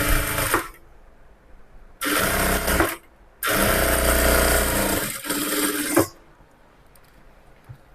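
A sewing machine stitches a folded blouse sleeve hem in three loud motor runs of a second or more each, with brief silent pauses between and a quiet tail.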